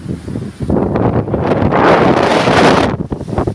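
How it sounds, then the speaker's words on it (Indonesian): Strong, steady wind roars and buffets the microphone on Payum Beach in Merauke, gusting louder in the middle, with a broad rushing noise and no voices. "kita lihat di Payum ini anginnya sangat kencang"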